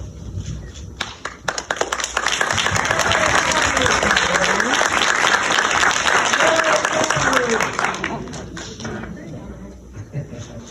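A crowd at the Ms Wheelchair South Carolina pageant applauds for contestant Miss Natalie, and sustained clapping swells and then tapers off. Voices and cheers are mixed in, with a few separate claps at the edges.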